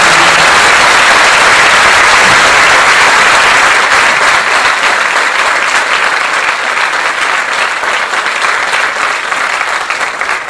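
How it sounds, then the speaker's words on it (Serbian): A large audience at a school choir concert claps loudly and continuously, a thick wash of applause that eases only slightly toward the end. "Molim vas jedan aplauz."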